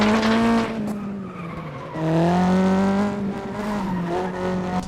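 In the video game FlatOut 2, tires squeal and skid under loud, revving race car engines, with pitch swooping up and down over several seconds.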